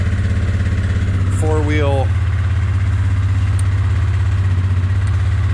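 A snow plow truck idles on choke in four-wheel drive, giving a loud, steady low engine rumble throughout, with a short voice heard briefly over it.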